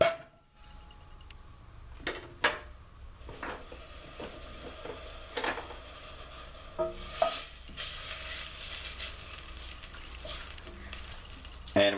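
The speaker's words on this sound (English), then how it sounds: "To the pot, you're going to add your margarine or butter." Butter or margarine melting in a pot over medium heat, giving a steady soft sizzle with occasional stirring scrapes and clinks throughout.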